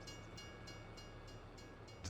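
A train passes near a forest farm: a low, continuous rumble with a regular clickety-clack of wheels on rail joints, steady and fairly distant throughout.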